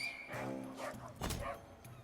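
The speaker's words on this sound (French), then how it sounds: "il a appelé son chien" A dog gives a couple of short, yipping barks in the video game Crown Gambit, close and clear, mixed with game sounds and no speech.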